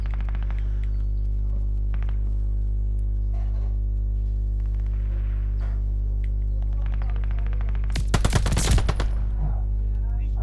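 Rapid automatic gunfire bursts out in a short, loud volley from the Call of Duty Vanguard video game over a constant low electrical hum, with fainter scattered shots earlier.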